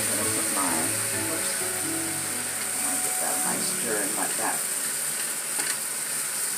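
Balsamic vinegar sizzles and fries in a hot pan as herbs are stirred, with a steady hiss running throughout under intermittent speech.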